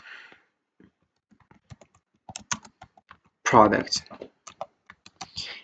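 Scattered clicks of computer keyboard typing, short light taps in irregular bursts, with a voice speaking over part of it.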